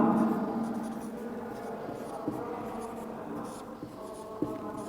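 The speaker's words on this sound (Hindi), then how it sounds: "उसके बाद हम सीधे लिखेंगे अब" Marker or chalk writing on a classroom board during a B.Ed lecture, heard as scratchy strokes with a few sharp taps over a steady background hum of the room.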